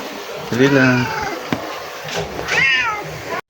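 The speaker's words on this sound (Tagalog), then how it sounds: "Mga pusa." Two close, loud cat meows, one drawn-out and one rising and falling, separated by a short pause and a small knock, before the sound cuts off abruptly.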